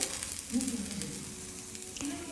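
Lady's finger (okra) roasts in a pan with a steady, close hiss and crackle of frying, plus the occasional soft scrape of stirring, quiet throughout.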